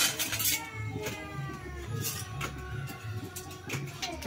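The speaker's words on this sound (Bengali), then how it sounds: "এখানে ডাল রান্না হচ্ছে। এই দেখো মা রান্না করছে।" Utensils clink and scrape against pots while dal cooks in a home kitchen, with faint, irregular metallic taps over a low background hum.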